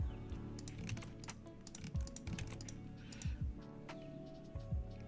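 Someone types quickly on a computer keyboard at a desk, producing dense, irregular clicks and key taps close to the microphone, with a low steady hum beneath.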